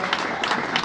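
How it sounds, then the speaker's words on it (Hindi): Brief burst of welcoming applause from an audience at an Ambedkar Jayanti gathering, a dense, even clatter of many hands. "स्वागत तालियों के द्वारा"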